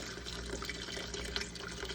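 Homemade bone broth pours and trickles steadily into a bowl sitting in a sink, a continuous close liquid rush with small splashing accents and no talking.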